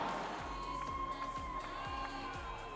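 A large crowd cheers at a badminton doubles match at the Summer Universiade, a steady distant roar of voices with faint rhythmic thumps beneath, no talk over it.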